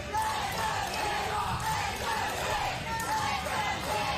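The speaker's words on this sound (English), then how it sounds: "This crowd getting behind him." A wrestling crowd at a 1CW Workhorse Championship bout cheers and yells in a steady, dense roar that holds loud throughout without a break.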